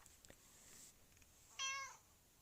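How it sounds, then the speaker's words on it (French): A single short meow from a cat sounds at moderate distance in an otherwise quiet, faintly hissing room, preceded by a few soft clicks. "Le chat?"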